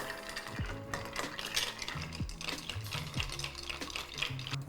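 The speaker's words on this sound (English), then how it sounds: "Then we're just gonna crack our ice, give it the old stir" Cracked ice stirred in a mixing glass for a brandy cocktail, giving a steady run of clinking, rattling ice knocks close up, with no talk.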